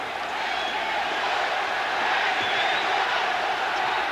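A basketball arena crowd at an NBA playoff game between the Atlanta Hawks and Detroit Pistons roars in a continuous, dense wash of cheering and shouting, steady and loud throughout.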